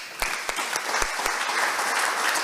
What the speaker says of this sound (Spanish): Vamos a aplaudir para Jesús